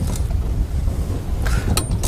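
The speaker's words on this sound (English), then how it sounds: "That wind is pushing us straight downstream." Strong wind buffets the microphone on a river during fishing, a low rumbling roar that stays steady with brief gusty bursts toward the end.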